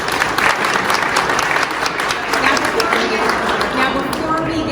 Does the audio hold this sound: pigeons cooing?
no